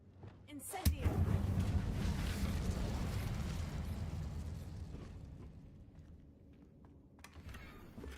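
An Incendio fire spell in Hogwarts Legacy bursts with a sharp blast, then roars as a sustained whooshing rumble that slowly fades, ending in a brief crackle.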